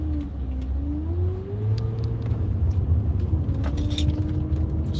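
A car driving through traffic, heard from inside as a steady low engine rumble and road hum with a faint rising whine and light rattles, continuous and close.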